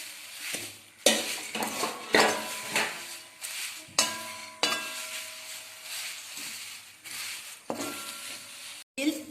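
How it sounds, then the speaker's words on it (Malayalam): Flattened rice (aval) roasting in ghee in a pan, a spatula stirring and scraping with repeated clinks against the metal over a soft sizzle, loud and close in irregular strokes. "അവൽ നെയ്യിലിട്ട് വറുക്കുവാൻ പോവുകയാണ്"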